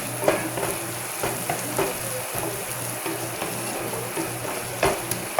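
Garlic fries in a pan while it is stirred, with a continuous sizzle and repeated scraping strokes at an irregular rhythm. Close and moderately loud, alone with no voices.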